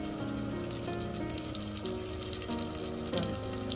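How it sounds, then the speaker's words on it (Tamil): Filtered tamarind water pours steadily into a simmering fish curry in a home kitchen, making a continuous liquid splash over the faint sizzle of oil. "புளி தண்ணியை வடிகட்டி தான் ஊற்றுறேன்"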